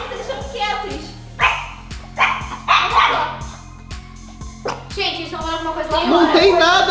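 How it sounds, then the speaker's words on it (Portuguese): Several dogs bark repeatedly in quick, uneven bursts, some yelping, while a person talks over them nearby in Portuguese. "Eles estão latindo."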